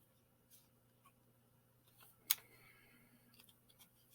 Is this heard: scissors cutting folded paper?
yes